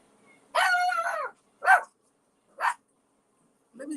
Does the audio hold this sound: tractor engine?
no